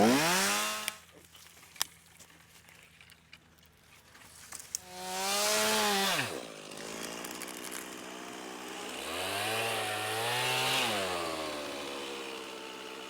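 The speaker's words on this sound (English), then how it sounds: "So I decided to go ahead and cut this big tree down." A chainsaw cuts down a big tree outdoors, its engine revving in long rising and falling surges with idling gaps between, close and loud, with no talking.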